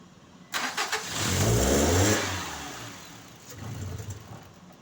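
A Nissan Altima with a fault that makes it stall and lose power has its engine revved up from idle. It swells to a loud, sustained rev, eases back down, then rises again, close by with no talk.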